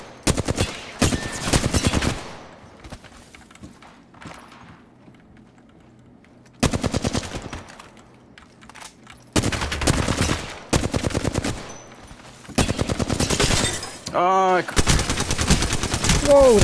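Rapid automatic bursts from an Alternator SMG in Apex Legends, several loud close strings of fire separated by short pauses, with other game effects between them.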